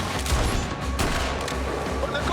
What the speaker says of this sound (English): they love these machine guns